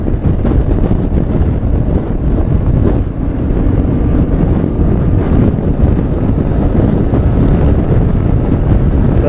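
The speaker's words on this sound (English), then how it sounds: "It's extremely windy today." A strong wind roars across the microphone during a motorcycle ride, a dense, unbroken rush that stays loud and steady throughout, with no talking.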